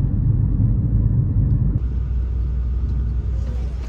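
A bus engine rumbles low and steady during a ride in Thailand, its tone shifting partway through as the drone continues.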